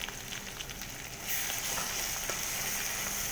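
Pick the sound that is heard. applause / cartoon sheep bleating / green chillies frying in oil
green chillies frying in oil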